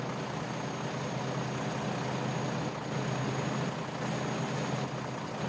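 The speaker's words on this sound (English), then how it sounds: "I have a problem with the engine noise right now" A steady, droning tractor engine rumble in Farming Simulator 2013 fills the whole stretch, broad and continuous with a low hum underneath and no speech.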